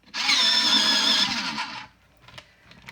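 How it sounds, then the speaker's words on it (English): Electric pencil sharpener grinding a colouring pencil: a loud, harsh motorised whine for about a second and a half, then it cuts off, leaving faint clicks and handling sounds. "I know that noise is horrendous, but it is an amazing sharpener."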